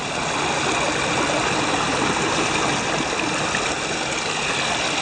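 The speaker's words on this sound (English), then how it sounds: "It's a nice creek though." A rocky creek below small waterfalls and bedrock cracks rushes steadily over stones, a dense, continuous close-up wash of flowing water with no voices.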